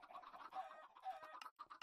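Minecraft chickens cluck in a steady, busy stream on an automatic chicken farm, several birds overlapping in short bursts, close and fairly loud with a brief pause near the end.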